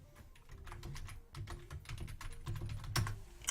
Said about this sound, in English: There you can type in OneNote Clipper